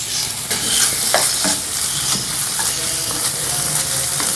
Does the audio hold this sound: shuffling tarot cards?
no